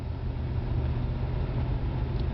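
A 1981 Cadillac Coupe Deville with a 368 cubic-inch V8 speeding up on a test drive, giving a steady, loud low engine drone with road rumble and no talk.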